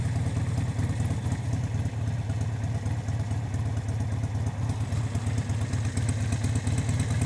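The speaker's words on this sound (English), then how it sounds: "Crank the idle down just a bit." A Harley-Davidson Sportster 72 idles with a steady, low, lumpy throb, close and continuous without pause for several seconds, no talking.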